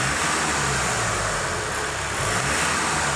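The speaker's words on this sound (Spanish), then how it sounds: "vamos a pegar una serie de acelerones bruscos" A diesel car engine with a Delphi DFP6 fuel pump revs hard in sharp bursts and roars loudly up close, its pitch rising and falling in a continuous strained drone.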